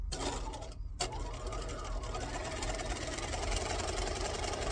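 A sewing machine runs a long, big stitch along a bag seam, a steady, close mechanical whir after a short stop-start at the beginning.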